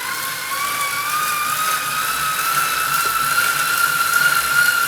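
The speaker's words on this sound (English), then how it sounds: "So I'm going to go ahead and start pedaling here. Probably have to excuse the noise." A steady mechanical whir from a bicycle pedaled on an indoor trainer, with a rising tonal whine that climbs slightly in pitch as cadence increases; continuous and close, no talking.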